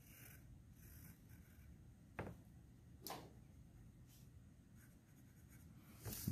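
A pen scratches across paper while a bridge substructure sketch is drawn, giving faint, soft strokes with a few sharper scrapes over a low, steady background hiss.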